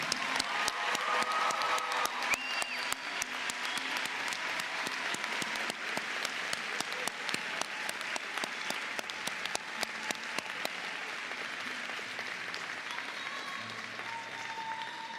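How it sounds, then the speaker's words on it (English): Audience at a 2018 college graduation ceremony applauds the graduates with sustained, dense clapping that stays steady and even throughout before easing slightly at the end. "Let's give a round of applause to our graduates of 2018."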